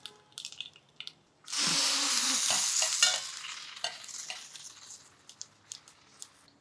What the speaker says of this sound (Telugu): ఆవాలు చిటపటలాడాక 1 టీ స్పూన్ మినపప్పు